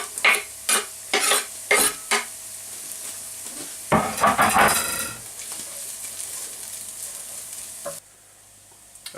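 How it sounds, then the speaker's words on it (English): Onions and garlic sweating in olive oil give a soft sizzle, broken by several sharp bursts of stirring and clatter early on, then a steady frying hiss that drops away near the end. "we've been sweating it in a bit of olive oil, and now to add a couple of cloves of garlic"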